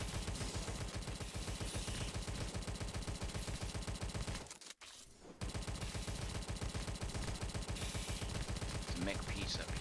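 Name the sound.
Tommy gun firing in the video game Tesla vs Lovecraft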